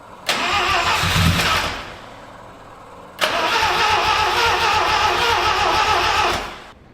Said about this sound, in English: I'm gonna hook the battery back up, crank this thing over and see how it runs today.